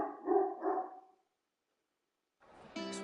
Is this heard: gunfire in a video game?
no